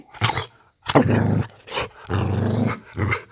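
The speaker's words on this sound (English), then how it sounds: "Tell me that we're not the only one with a boxer dog that does this." A boxer dog growls up close in several rough, throaty bursts separated by short pauses, loud and alone with no talking.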